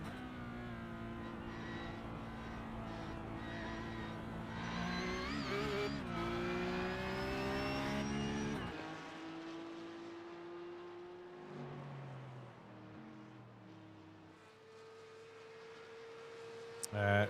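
A GT race car in iRacing, a GT3 with a GT4 nearby, drones at high revs through rising and falling gear changes, then eases to a lower, quieter whine with some talking over it.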